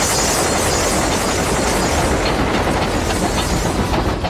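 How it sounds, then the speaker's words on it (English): A train rattles steadily along the tracks with a loud, continuous rumble and rhythmic clatter of wheels, no voices. "A sudden jolt shook the train, rousing the soldiers"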